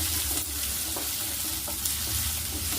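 Finely chopped onions fry in a pan for bitter gourd gojju, a close, loud, continuous sizzle with a few soft stirring knocks and no voices.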